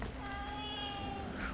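A cat meows once in a long, drawn-out, slightly wavering call in a horror-themed crime scene cleaning video game, heard close over a steady background hum.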